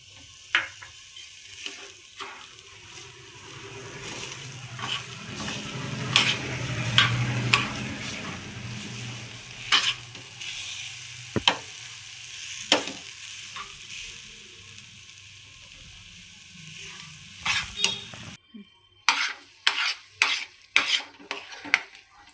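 Beetroot laddu mixture with sugar being stirred in a pan for a Ganesh festival offering, a steady scraping and soft sizzle with spoon clinks against the metal, ending in a run of sharper, separate taps.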